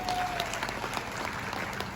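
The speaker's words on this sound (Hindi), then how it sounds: "इसके लिए मुझे लगता है कि आपके लिए एक बार जोरदार तालियां होना चाहिए।" Audience at a Hindi talk event gives a loud, sustained round of applause, dense steady clapping from a crowd filling the whole clip with no speech over it.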